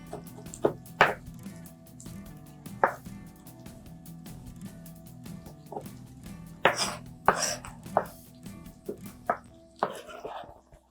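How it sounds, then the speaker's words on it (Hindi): A knife finely chops food for achari karela on a board: sharp, close knocks come in uneven bursts, speeding into quick clusters toward the end, over a faint background hum. "इसको मैं बिल्कुल चॉप कर रही हूँ बारीक बारीक सा"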